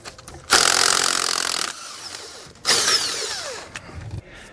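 An impact wrench loosens lug nuts on a trailer wheel, running in two loud close bursts of about a second each, separated by a short pause and trailing into quieter mechanical handling.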